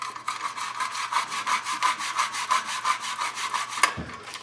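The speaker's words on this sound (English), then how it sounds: "You got to keep scrubbing though until it's right." A brush scrubs a tin toy clean in quick, rhythmic back-and-forth strokes, each pass a close, bristly rasp, then a short knock at the end.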